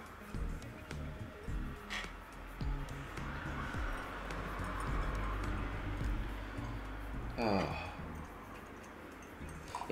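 Faint traffic, cars and motorbikes, from a nearby road heard inside a room, swelling and fading as they pass, with soft clicks and room noise in the foreground.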